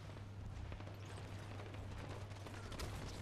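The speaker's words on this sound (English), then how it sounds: "That's a tank." A tank in the Halo 5: Guardians Warzone video game gives off a steady mechanical rumble with a low droning hum and clanking tread noise, loud and continuous throughout.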